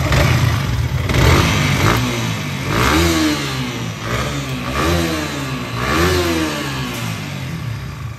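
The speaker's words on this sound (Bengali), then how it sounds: "ইঞ্জিনের সাউন্ড ট্যাপিট অ্যাডজাস্ট করার পরে ফাইনালি যে সাউন্ডটা" A Yamaha R15 motorcycle engine runs steadily after a tappet adjustment, revving up and dropping back in repeated rising-and-falling sweeps, close and loud, with no talk.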